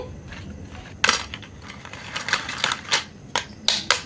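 Crunchy sun-dried homemade papad, made from flour, being handled: a series of crisp, brittle clicks and snaps at irregular intervals, close up over a quiet background.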